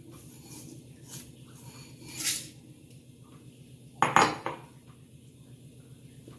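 Washed green gram going into a pressure cooker: a few sharp metallic clinks and rattles against the pot, with quiet gaps between them and one louder cluster near the end.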